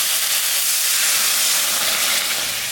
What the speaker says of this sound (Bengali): মশলাটা ভাজা ভাজা হয়ে গেছে, আমি এখন জল দিয়ে দিলাম।